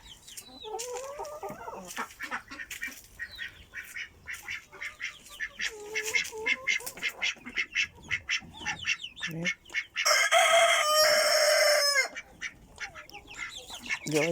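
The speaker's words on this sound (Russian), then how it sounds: "Курочки поют." Hens cluck and a rooster crows in a backyard flock of poultry, a busy layered chorus of calls throughout, with a loud sustained crow rising over the rest near the end.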